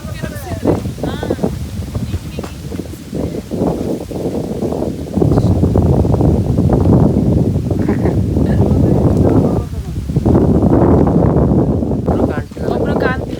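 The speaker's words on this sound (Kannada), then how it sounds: "ಗಾಳಿ ಒಳ್ಳೆ ಗಾಳಿ" Gusty wind sweeps through trees on a village farm, buffeting the microphone in loud surges and lulls, with people talking intermittently over it.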